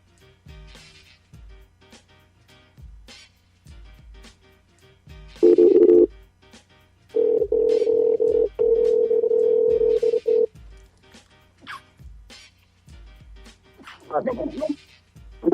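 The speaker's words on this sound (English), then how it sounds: "I'm about to call somebody, put in a special guest real quick." A telephone call being placed, heard as steady electronic line tones: a short burst, then a longer continuous tone lasting a few seconds, amid scattered background clicks and noises.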